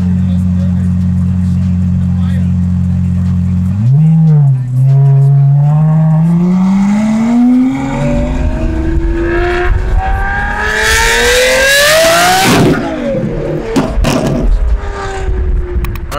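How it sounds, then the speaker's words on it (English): A purple Lamborghini Aventador SVJ with an aftermarket high-flow exhaust idles loudly, then revs with rising pitch through hard acceleration to a shrieking peak and sharp drop-off, with people talking over it. "This car, we put our exhaust system, sounds amazing, no problems with it."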